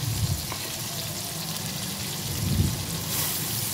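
Water is poured into spices in a cooking pot, making a steady hissing, sizzling rush with faint bubbling throughout, close and moderately loud with no talk.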